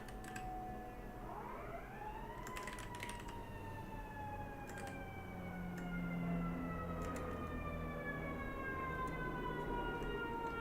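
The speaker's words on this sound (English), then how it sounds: "This is a siren on my end again." An emergency vehicle siren wails outside, rising and then slowly falling in a long tone. Faint keyboard typing sits underneath and nobody speaks.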